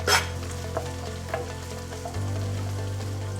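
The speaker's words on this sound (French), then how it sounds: "Quand mes oignons sont un petit peu dorés, j'ajoute les carottes." Onions and carrots frying in a pan during home batch cooking, a steady low sizzle with a few soft stirring clicks and a louder hiss near the start, then an even hum with no talking.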